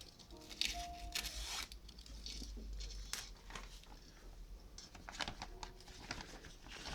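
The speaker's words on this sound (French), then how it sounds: "on applique le film de cuisine sur la surface du socle" Cling film is pressed onto the surface of a miniature model base, giving faint, intermittent crinkles, soft squishes and tearing rustles in quiet surroundings.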